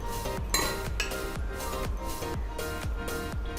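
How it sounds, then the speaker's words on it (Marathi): Metal pans and utensils clank repeatedly on a stove while cooking Kolhapuri mutton, a series of close, ringing clinks and knocks at a steady, uneven rhythm. "इथे मी पॅन तापत ठेवला आहे."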